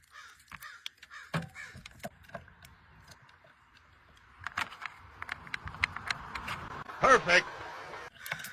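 Crows caw in short, scattered calls at varying distances, with a denser burst of loud caws near the end, over a quiet outdoor background while the birds handle sliding puzzle pieces.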